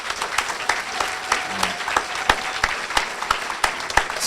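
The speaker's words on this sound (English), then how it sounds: "can we just give a large round of applause for the 7 students tonight who put together this fantastic documentary" Audience applause for seven student filmmakers at a documentary red carpet premiere, a steady wash of many hands clapping with sharper individual claps standing out throughout.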